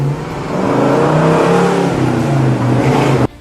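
A 1964 Pontiac Tempest GTO engine revs and accelerates loud and close, its rising tone climbing steadily for about three seconds before cutting off abruptly.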